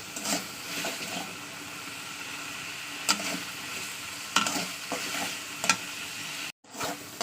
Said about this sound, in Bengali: চলুন এবার আমি এটা ভালো কষিয়ে নেবো সুন্দর করে তেলের সঙ্গে